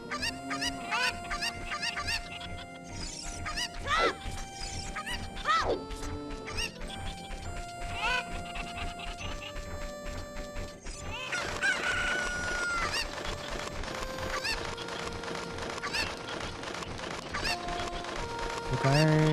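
Chickens clucking and a rooster crowing in the video game The Legend of Zelda: Ocarina of Time, loud and close, with repeated squawks and crows over game music.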